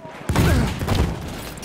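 Gunfire from a bomber plane in Battlefield 1 on the Sinai Desert map, a sudden loud burst of rapid shots with booming impacts that quickly tails off, with someone talking over it.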